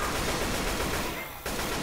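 Dense, continuous gunfire in the Dark Carnival video game, a rapid noisy barrage that breaks off for a moment near the end and then resumes.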